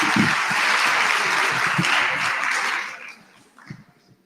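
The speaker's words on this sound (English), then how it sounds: "Let's give him another good round of applause." Audience at a national SRC induction gives a presenter a full round of applause, dense and steady for about three seconds before thinning out into a few scattered claps and faint murmuring.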